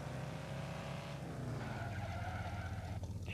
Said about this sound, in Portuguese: Ó, o cavalo de pau